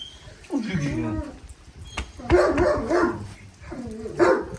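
Kangal dogs growl and bark in short, rough bursts while one guards a bone, the snarls rising and falling close by with a few sharp yips between them.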